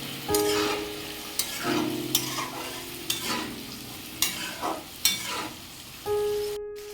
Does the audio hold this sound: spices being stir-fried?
yes